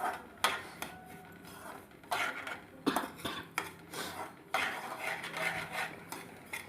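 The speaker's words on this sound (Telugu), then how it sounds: "దీన్ని మనం బాగా ఫ్రై చేసుకోవాలి బాగా మిక్స్ అవ్వాలండి" A spoon stirring semolina as it fries in a pan for rava laddu, with repeated scraping clinks of metal on metal in an irregular rhythm over a soft background hiss.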